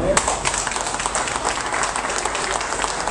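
Strong, steady round of applause from a crowd of carnival participants at a pre-carnival gathering, dense clapping sustained near and loud throughout with some voices mixed in.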